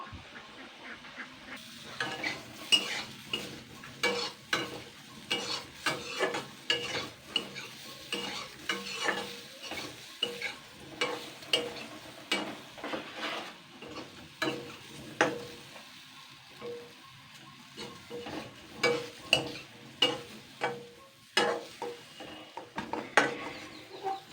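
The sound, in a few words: chana dal fritters frying in a pan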